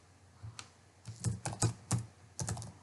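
Keys clack on a computer keyboard while HTML code is typed, a short uneven run of close, crisp keystrokes in quick clusters with brief pauses.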